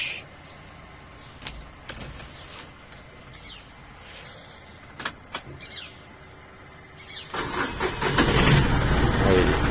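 A school van engine cranks and catches near the end, rising to a loud, rough running rumble close by. Before that come a few clicks and knocks under ongoing talk.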